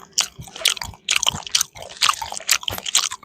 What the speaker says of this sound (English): Oh, you know what? I'm chewing gum.